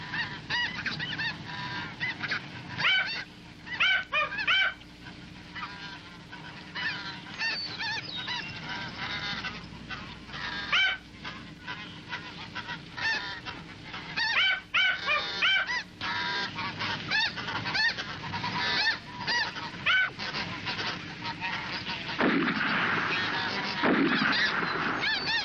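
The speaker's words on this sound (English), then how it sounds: "including some of the biggest snow geese I've ever seen" Snow geese honk in a Texas marsh, a dense, loud chorus of overlapping calls from a large flock, continuous and close with brief swells as birds pass overhead.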